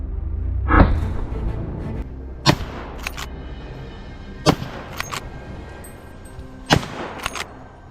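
Several sharp, suppressed rifle shots from a hunt, each a brief muffled crack with a short tail, spaced irregularly over a low outdoor background with no talking.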